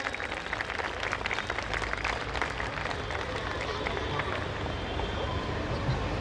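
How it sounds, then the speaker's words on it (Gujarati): Applause from an audience at a school award ceremony, with a creative teacher award being presented; steady broadband clapping fills the whole stretch at moderate level, with a faint crowd murmur underneath. "તાળીઓનો ગડગડાટ."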